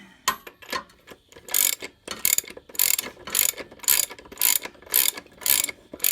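A ratchet tightens the rear axle nut on a Yamaha Maxim XJ750/XJ650 motorcycle during a rear wheel install, giving close, rapid bursts of clicking in a steady back-and-forth rhythm, with no voices.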